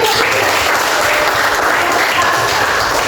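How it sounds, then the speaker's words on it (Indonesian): A classroom of students gives a loud, steady round of applause, dense clapping that fills the whole clip at an even level. "terima kasih tepuk tangan"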